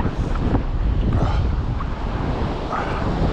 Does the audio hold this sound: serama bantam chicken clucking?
no